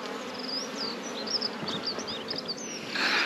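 Honey bees buzz around their hives in a bone-dry apiary, a close, dense drone continuing the whole time with a few higher chirps flitting above it.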